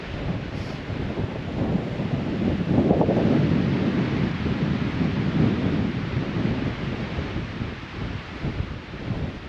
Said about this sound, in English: I'm in the beautiful woods of North Idaho, and it's windy as hell.